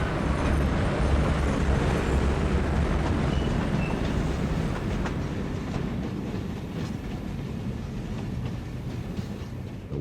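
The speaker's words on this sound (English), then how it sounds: "Wabash's westbound Bluebird rolls right along through Oak Lawn, Illinois." The westbound Wabash Bluebird passenger train rolls through Oak Lawn, Illinois, with a loud, continuous rumble and clatter of wheels on rails that eases slightly as it goes by.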